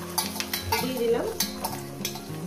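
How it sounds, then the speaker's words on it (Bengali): Food fries in hot oil with a continuous close sizzle, broken by a few scrapes and clinks of a utensil, while a soft tonal melody plays underneath. "দেখাচ্ছি কিভাবে ভাজবো"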